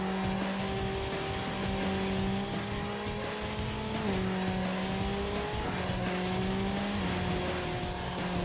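Race cars roar through a steady run in Need for Speed: Underground, including a Toyota Celica and a Volkswagen Golf. Their engine whine rises and drops with gear changes under a constant loud rush of road noise.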